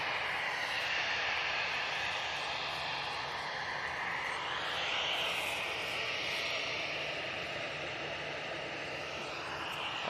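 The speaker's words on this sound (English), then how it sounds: "Got a prop coming in. It's the Aer Lingus coming in from Dublin" An Aer Lingus propeller plane arriving from Dublin at Manchester Airport, a steady, fairly faint broadband engine roar that holds for the whole stretch with a slight swell midway.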